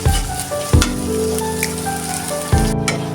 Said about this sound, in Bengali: এটা একটু হালকা ভেজে নিব আমি